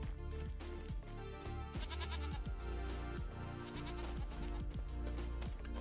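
Repeated bleats from sheep in Farming Simulator 25, overlapping calls in quick succession, close and loud, over a rural farm backdrop.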